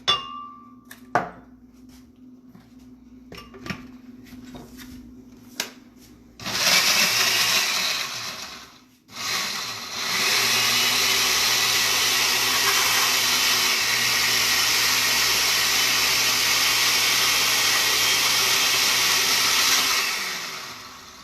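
A kitchen blender purees a buttermilk marinade paste with oil and vinegar, starting after a few clicks and knocks, then whirring loud and steady for about fourteen seconds with one brief pause.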